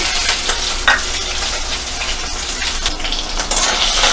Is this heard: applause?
no